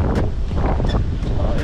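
Wind buffets the microphone of a gravel bike rider on a gusty ride, a loud, rumbling roar with uneven gusts and no talking.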